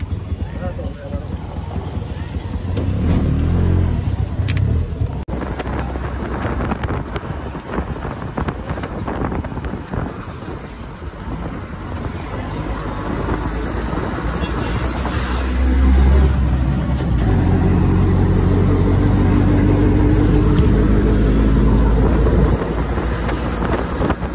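Ride inside an auto rickshaw on the way to Bivpuri waterfalls: continuous engine rumble, road noise and buffeting wind on the microphone, with people talking over it throughout.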